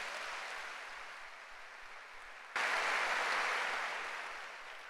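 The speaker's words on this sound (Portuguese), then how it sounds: "Dá um aplauso ao Senhor Jesus." Congregation in a church applauding for Jesus, a broad continuous crowd clapping that swells suddenly partway through and stays full and steady.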